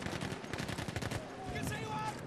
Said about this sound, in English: I heard about 500 shots let off